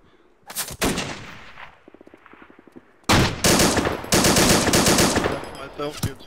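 Gunfire in the military shooter game Arma 2, a few single shots and then dense, loud bursts of automatic fire, close and rapid, with a quieter stretch in between.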